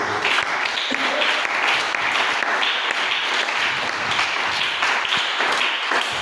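A church congregation applauds in a dense, sustained wash of clapping from many hands, steady and fairly loud throughout, with some voices mixed in.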